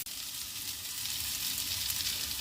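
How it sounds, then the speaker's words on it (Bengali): Broken wheat (daliya) frying in a pan with cashews and raisins for pulao, a steady, close, dense sizzle that holds evenly throughout with no voices. "এখন ডালিয়ার সাথে একসাথে সব ভেজে নেব।"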